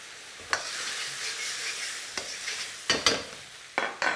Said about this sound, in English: Bring that up to a vigorous boil.